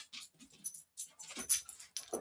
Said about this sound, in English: my dog is fighting to get in the room that I closed the door